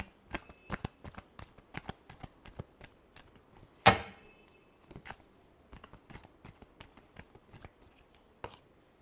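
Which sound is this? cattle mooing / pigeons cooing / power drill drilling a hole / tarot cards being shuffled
tarot cards being shuffled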